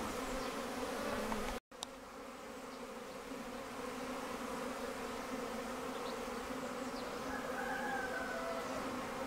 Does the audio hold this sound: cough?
no